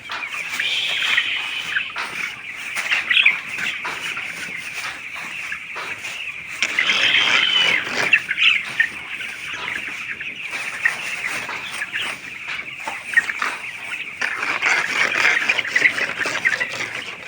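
Many chickens cluck and chatter continuously in a busy flock on a poultry farm, with occasional louder squawks standing out from the steady din.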